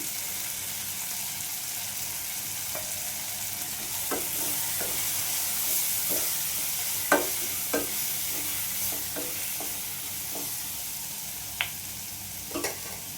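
Tomato fried with turmeric and chili powder sizzles steadily in a pan for moong dal saaru, with scattered scraping clicks of a spoon stirring through the constant hiss.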